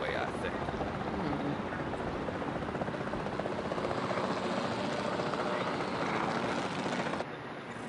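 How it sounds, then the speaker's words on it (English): Capture team helicopter in the video game Jurassic World Evolution 2, its rotor and engine whirring as a steady, continuous drone throughout, cutting off near the end, with someone talking over it. "the sensible thing is to take a capture team helicopter"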